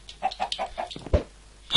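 A Minecraft chicken clucking in a quick series of short clipped calls, clear and close, with a louder note near the end and no talk over it.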